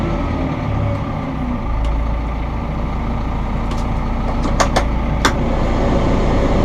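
A Massey Ferguson 6713 tractor engine runs at a steady PTO speed with a constant droning rumble, a few faint clicks and taps rising above it.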